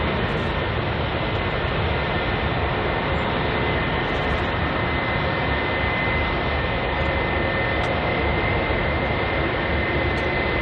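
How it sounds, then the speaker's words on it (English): A jet aircraft at London Heathrow, an Air India Boeing 787 Dreamliner, produces a continuous loud engine roar and broadband rush that holds steady for the whole stretch, with no voices over it. "just in front of us is the Air India 787 Dreamliner"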